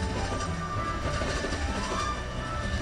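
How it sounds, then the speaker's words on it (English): A train rolls along the rails in a steady, dense rumble with faint rhythmic clatter, heard continuously from aboard during a long ride. "Very long train ride."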